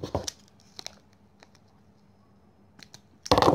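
Scissors cutting rows off flower wrapping material, a few crisp snips and crinkles up close with quiet gaps between, ending in a louder rustling burst.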